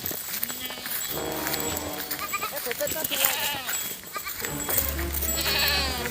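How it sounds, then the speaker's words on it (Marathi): Goats bleat repeatedly while grazing in a soybean field near forest, several calls close by, with a person talking over them as they walk among the herd. "बघू शकता आपल्या शेळ्या आहेत पुढे आणि आपण चालत आहोत आता शेळ्यांमध्ये."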